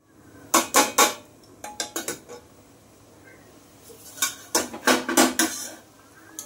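A lid placed on a pot of curry to boil, several loud metallic clanks and rattles in two clusters separated by a quiet pause, close by.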